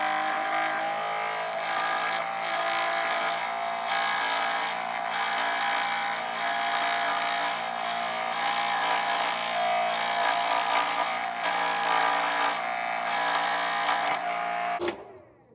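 A Chompsaw power saw cuts a circle into wood with a circle guide, giving a steady, loud, continuous buzzing whine that holds for about fifteen seconds and then stops abruptly.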